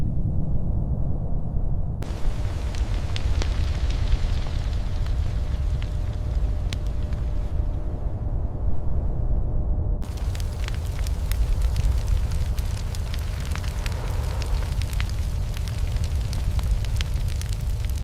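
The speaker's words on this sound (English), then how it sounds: "The last structure burning in a consumed town marks the end of the fire's active destruction" A building burns in a wildfire-destroyed mountain town, a dense, continuous roar and crackle of flames holding loud and steady with no talking.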